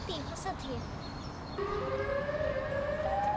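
A Siren Head monster in a horror video game lets out a rising siren wail, starting faint and then swelling into a steady, sustained tone at the seaside, heard alone without talk.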